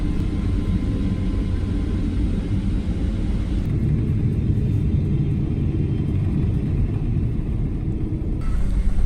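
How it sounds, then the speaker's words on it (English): Inside a Kuwait Airways airliner descending on approach and landing into Kuwait International Airport, a loud, steady low engine and airflow rumble fills the cabin without letup, with no voices. "We soon commenced our approach and landing down into Kuwait International Airport"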